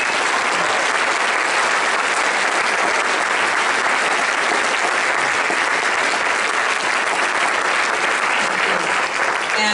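Steady, dense applause from a high school jazz band concert audience fills the whole stretch, loud and continuous with no voices standing out.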